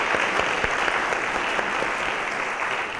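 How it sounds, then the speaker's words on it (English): Audience at a city State of the City address giving a huge round of applause for the city manager and department heads, steady loud clapping from a large crowd throughout. "give our city manager and his team and our department heads a huge round of applause"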